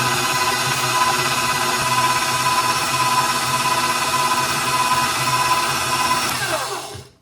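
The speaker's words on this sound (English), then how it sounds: "Mix it until it's light and fluffy." An electric mixer whirs steadily as it beats Oreo pound cake batter until light and fluffy, an even motor drone that winds down and stops at the end.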